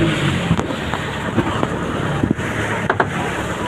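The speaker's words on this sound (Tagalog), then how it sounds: "Laki ng alon." Big sea waves and gusting wind heard from aboard a boat on rough water, a steady loud wash of noise with repeated surges and thumps from the swell.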